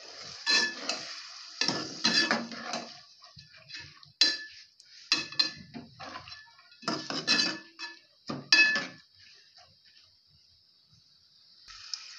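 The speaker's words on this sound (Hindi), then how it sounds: "मिक्स कर लेंगे इसको।" Soaked chana and mash dal stirred in a metal pot, a spoon scraping and clinking against the sides in irregular bursts of close, clattering strokes with short pauses between.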